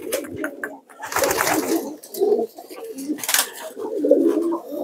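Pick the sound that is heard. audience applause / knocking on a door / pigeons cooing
pigeons cooing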